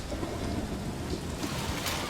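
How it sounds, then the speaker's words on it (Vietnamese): Heavy rain pours down in a steady, dense hiss with low rumbling underneath, loud and continuous throughout, with no voices. "Mưa to"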